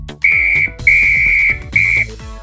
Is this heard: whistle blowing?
yes